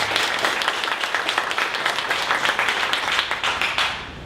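A crowd at a Dallas 1 Million Cups pitch event gives a sustained round of applause for Converse VR, thick continuous clapping filling the room at an even level from start to finish.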